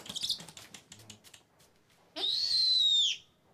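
An owl gives a loud, sustained high screech lasting about a second, preceded by scattered rustling and handling sounds.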